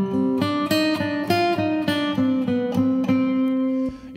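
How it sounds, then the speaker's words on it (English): Seventh Heaven chamber reverb from Liquid Sonics on a short pitched instrumental phrase of about a dozen struck notes in steady rhythm, each decaying into a clear room-like tail, loud and alone with no talking. "The Chamber, first the Seventh Heaven from Liquid Sonics."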